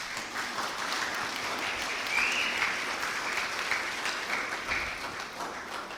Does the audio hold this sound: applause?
yes